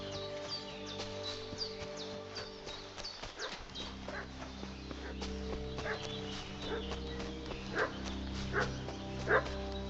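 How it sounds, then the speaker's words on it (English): A dog barks repeatedly in Kingdom Come: Deliverance, its yelps scattered over a horse's clip-clopping hooves and background game ambience, growing more insistent toward the end. "What's that dog making such a fuss about?"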